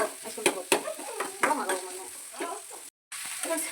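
Onions and cumin sizzling in a pan, a steady faint frying hiss with scattered stirring clinks and scrapes, close by, with brief murmurs of voices in the background.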